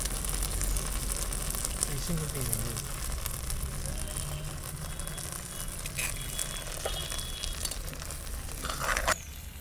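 Tin fish curry bubbles and sizzles steadily in a pan, a continuous close frying hiss with soft crackles throughout, with faint background noise and a brief clatter near the end.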